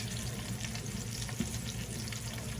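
Steak fries in a hot pan with a continuous dense sizzle and crackle, steady and close, with no voices.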